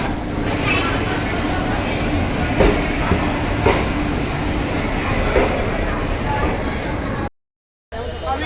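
Train noise at Haridwar railway station: a steady, loud rumble of rail cars with faint clicking, continuous for about seven seconds, then a brief cutout before the noise resumes.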